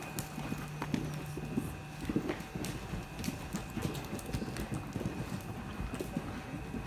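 A horse canters on the right lead during a riding clinic, its hooves giving a steady, muffled three-beat rhythm on soft ground. Light wind noise runs throughout.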